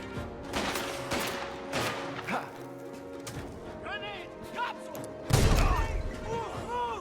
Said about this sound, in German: jetzt rühre ich Granaten